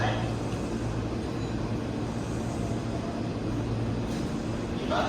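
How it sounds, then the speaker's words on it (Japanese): A Hanshin 9501 series limited express train bound for Osaka-Umeda departs Amagasaki station, giving a steady, dense rumble and low hum that stays close and even throughout. "2番線から電車が発車します。"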